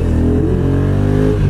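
Honda NT 1100 motorcycle engine pulling hard under acceleration, a loud, steady harmonic drone with gear-driven pitch changes, close and continuous with no talking.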